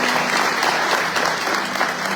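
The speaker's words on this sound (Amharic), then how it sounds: "እንግዶችን አንድ ጊዜ እንኳን ደህና መጣችሁ በሚል እስቲ አንድ ጊዜ አጨብጭቡላችሁ።" A church congregation claps steadily to welcome guests, dense close applause filling the whole stretch with no voices over it.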